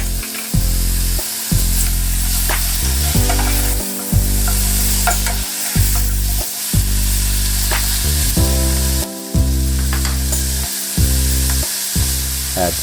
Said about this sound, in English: and saute for another 3 minutes or so.